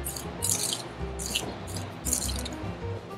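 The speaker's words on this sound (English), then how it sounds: "all we have to do is just give that a stir" Orange fruit and sugar stirred in a bowl, giving soft, faint wet squishes and juicy dripping sounds in a few gentle, irregular bursts.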